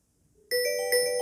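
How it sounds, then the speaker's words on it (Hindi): A mobile phone on an incoming call starts ringing abruptly after a faint buzz, a bright chime-like ringtone sounding close and clear for about a second. "ये देखिए दोबारा से ये वाइब्रेट भी कर रहा है और इसकी जो रिंग है वो भी बज रही है"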